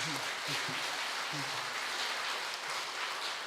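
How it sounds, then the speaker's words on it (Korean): A church congregation at a Sunday afternoon service gives a round of applause for a visiting pastor, a soft, dense, rain-like patter of many hands sounding distant and faint, with a brief murmur of voice. "감사의 박수 한번 보내드리도록 하겠습니다."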